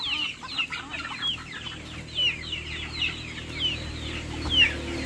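Rhode Island Red chickens cluck continuously near a coop, with repeated sharp calls every second or so over a low ambient rumble.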